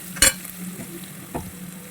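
Onions sautéing in a pan for a chana masala, a soft steady sizzle broken by two brief scraping stir strokes, close and fairly quiet.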